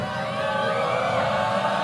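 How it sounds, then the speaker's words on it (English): Crowd noise at a Sunday afternoon college volleyball match in Blacksburg, Miami against Florida State, as a Miami player serves: a steady, dense murmur of many voices with mild cheering, continuous and fairly near throughout. "This crowd's getting a little bit lively as well."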